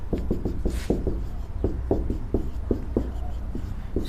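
Chalk or marker tapping and scraping across a board during a maths lesson on quadratic equations, a quick run of close, crisp strokes and ticks over a low steady room hum.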